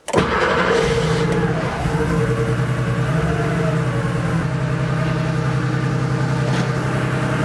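A Porsche 3.2 Carrera engine, a project car with a leak, cranks and fires, then settles into a loud, steady, rumbling idle with a brief rise in revs near the start, heard close.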